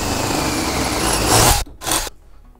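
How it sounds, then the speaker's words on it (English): A power drill with a half-inch (12 mm) bit bores through the top piece of a Boba Fett jet pack build, a loud steady grinding rasp for about a second and a half, then two short bursts. "I'm going to pull out that half inch bit, or 12 millimeter, and I'm just going to drill through the top piece"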